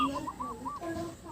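A zebra dove (perkutut) coos softly in a quick rhythmic run of rounded, bubbling notes, faint and unaccompanied.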